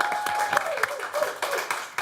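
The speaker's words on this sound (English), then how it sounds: "Let's have a round of applause, please, for Jose the Comedian." Studio audience applause greets Jose the Comedian on a television comedy show, a brisk burst of clapping at moderate level that thins slightly toward the end, with a faint voice underneath.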